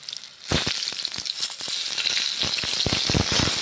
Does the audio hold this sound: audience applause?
no